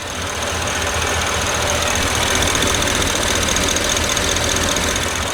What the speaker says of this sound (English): it's a little ticky to me.